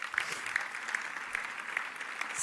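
Audience applause for family members standing at a speaking event, a steady moderate patter of many hands with a few sharper claps, continuous and slightly distant.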